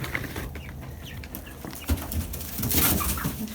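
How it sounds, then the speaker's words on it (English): Backyard chickens being fed scraps by hand, with soft clucks and bird calls near and around, scattered pecking and rustling bumps, and a livelier burst of activity toward the end. "Here you go, chickies."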